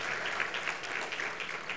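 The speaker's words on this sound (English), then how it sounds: "Give him a round of applause." Brief, steady audience applause at a live gathering, a full crowd clapping evenly for under two seconds with no voices on top.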